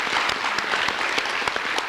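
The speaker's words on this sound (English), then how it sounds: "I think they deserve a round of applause." An audience at an elected officials forum claps steadily, a dense burst of many hands in a room, with no voices over it.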